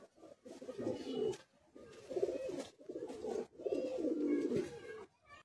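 Pigeons in a loft cooing in several low, throaty bursts, close by and fairly soft, with brief pauses between the calls.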